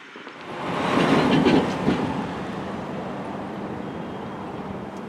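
A BART train rolls past near the station on 7th Street in West Oakland, a broad steady rumble that swells over the first two seconds and then holds level with faint rail rattle.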